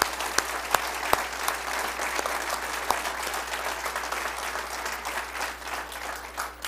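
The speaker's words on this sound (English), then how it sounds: "let's give a round of applause for Al Brooks Patterson" An audience at a township presentation applauds a county executive with continuous, even clapping from many hands, moderately distant, with a few sharper claps standing out early on.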